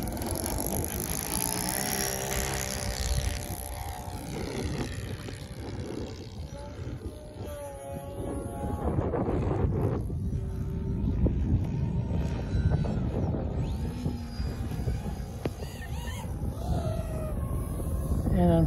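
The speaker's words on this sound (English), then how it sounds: "we'll go ahead and get the engine started, and I'll set you on my head, and we'll get flying" The glow engine of a Sig Four Star 40 model airplane, set too rich, starts and runs with a steady, buzzing whine that rises and falls in pitch over wind noise from the microphone at an evening flying field.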